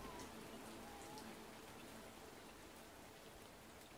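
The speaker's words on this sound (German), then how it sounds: "regnet." Steady rain falls in the survival game Fountain of Youth, a dense continuous patter of drops that holds at an even, fairly soft level throughout with no voices over it.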